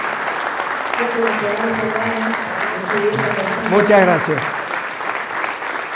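Audience applause at an Air Force conference, a broad steady wash of clapping running throughout while someone speaks over it.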